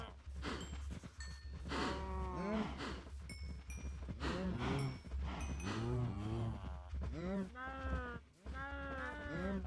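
Minecraft cows moo repeatedly in the game, drawn-out groaning calls overlapping at a steady pace, loud and close, over a constant low hum.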